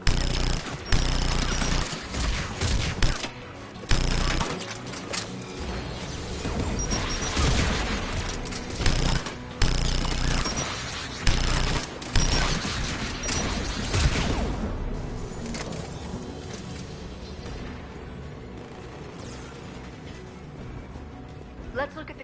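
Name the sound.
anti-aircraft guns firing in Mass Effect 3 video game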